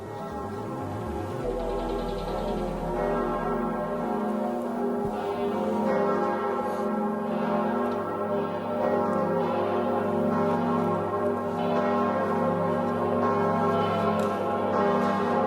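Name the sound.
church bells ringing in Notre-Dame de Paris south tower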